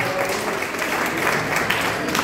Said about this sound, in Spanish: Sí, señor, el aplauso.